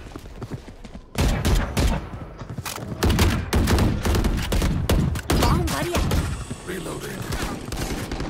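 Rapid gunfire bursts from a Valorant match, loud sharp cracks stacking into dense volleys across most of the stretch, with brief pauses between, while players talk over the shooting.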